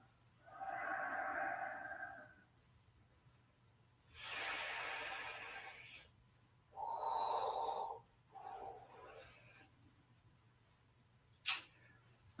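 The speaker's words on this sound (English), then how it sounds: "breathing nice and easily into the lower dantian" Slow, relaxed breathing during a qigong exercise, several long, soft inhales and exhales spaced a few seconds apart, close and quiet with a faint low hum underneath and no talking.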